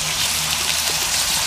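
Water poured from a tomato purée container into a pot of chili with sausage and tomato purée, a steady broadband splashing pour that stays close and even for the whole moment.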